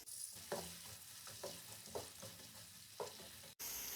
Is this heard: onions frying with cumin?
yes